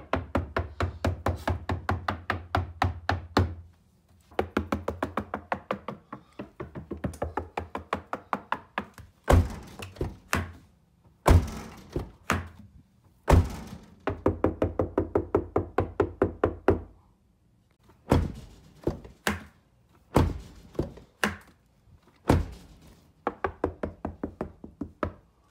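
Repeated knocking on a 2018 Subaru WRX/STI passenger door panel before sound deadening is fitted, bursts of quick hollow thuds and taps in clusters with brief pauses between, close and fairly loud.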